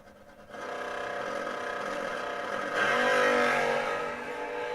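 Dragsters launching side by side in a drag race round, a loud, sustained high-pitched engine roar that rises in intensity partway through and stays strong to the end.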